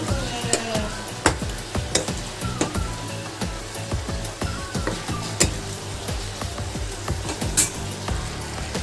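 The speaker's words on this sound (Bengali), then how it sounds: "এবার আমি ভাজা বেগুনগুলো দিয়ে দিচ্ছি" Fried eggplant being stirred into a simmering mustard gravy for a Bengali sorshe begun curry, with a steady sizzle and bubbling under repeated sharp scrapes and clinks of a spatula against the pan.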